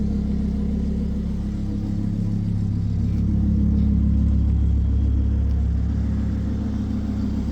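A Lamborghini Huracan with gutted catalytic converters idles warm, its engine a steady, loud, deep rumble close by, holding an even drone with slight swells throughout and no talking.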